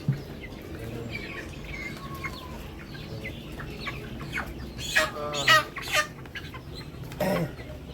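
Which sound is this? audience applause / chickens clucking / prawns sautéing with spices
chickens clucking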